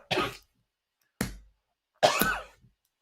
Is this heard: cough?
yes